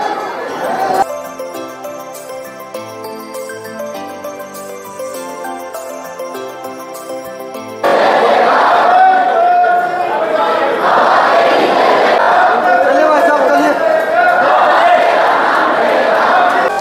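A crowd at the Khatu Shyam temple at Chulkana Dham chants and calls out loudly in a dense mass of voices; before that, tinkling bells and a steady musical drone play at moderate volume.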